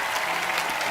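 A studio audience on a comedy talk show claps steadily as Sonam Bajwa walks on stage, a dense, even burst of applause filling the whole moment without a break.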